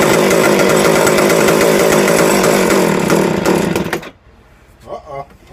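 McCulloch chainsaw with a freshly rebuilt carburetor, running loud and close at a rough, rattling high rev for about four seconds before abruptly dying, followed by quieter fumbling sounds.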